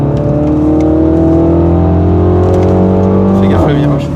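A turbocharged Mini's engine revs loudly and steadily at close range, its tone shifting near the end as the throttle drops, with talk over it and no clearly separate exhaust pops.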